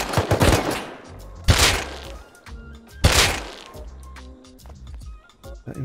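Close gunfire from the survival game Rust: a rapid cluster of loud sharp shots at the start, then two more single heavy reports a second or so apart. Thuds and clatter fill the gaps between shots.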